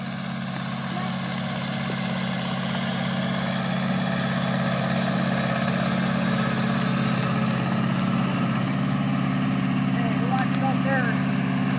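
A heavy tractor engine idles with a steady low rumble and vibration, continuous and close, with faint voices and chirps in the background.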